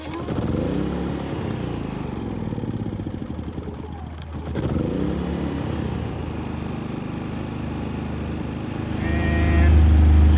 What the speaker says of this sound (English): we're gonna fire this thing up and get our generator measurements.